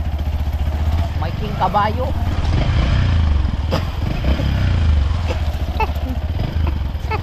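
A motorcycle engine runs close by with a low, steady chugging hum and occasional revs, while someone talks over it for most of the clip.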